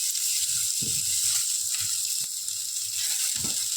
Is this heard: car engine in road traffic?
no